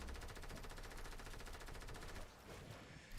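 Fortnite gunfire rattles in a dense, continuous automatic burst that dominates the scene, easing slightly near the end with no voices over it.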